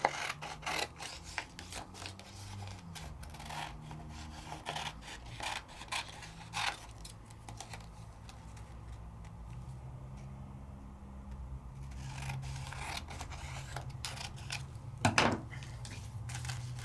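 Scissors snip and rasp through card stock during a card craft project, a run of quiet scattered cuts with pauses between them and one louder crisp snip near the end.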